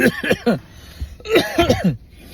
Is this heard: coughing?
yes